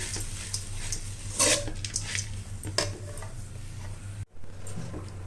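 Peanuts stirred through drumstick leaves in a pan for murungai keerai poriyal: quiet, irregular scrapes and light clinks of a spatula against metal, with a brief gap near the end and a low hum throughout.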